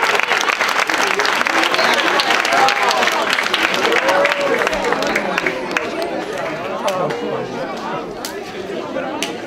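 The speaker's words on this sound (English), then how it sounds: "Let's give a big round of applause to all our first graders." An audience applauds loudly with dense, sustained clapping, mixed with cheering voices and crowd chatter, gradually tapering off.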